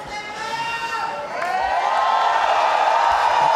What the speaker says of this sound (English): A crowd rally for Stefer Rahardian.